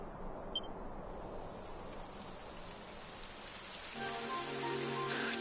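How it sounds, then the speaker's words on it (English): Soft, steady rain begins falling in the fantasy role-playing video game Dragon Quest XI, a faint even hiss of drops that thickens slightly toward the end. "It would have to go and start raining, wouldn't it?"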